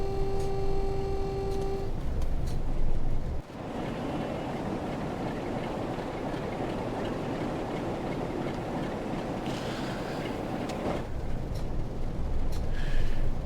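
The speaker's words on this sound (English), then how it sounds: "I love this sound of this diesel engine and the running gear on the 47" A British Class 47 diesel locomotive in Train Sim World 5 drones with a low engine rumble and rolling running gear, loud and continuous, with a brief tonal note at the start and a bump near a few seconds in.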